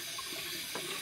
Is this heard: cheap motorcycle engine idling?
no